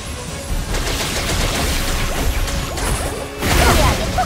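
A fireworks skill effect in a video game bursts in a dense run of crackling pops and whooshes, loud and close, swelling into a bigger blast near the end.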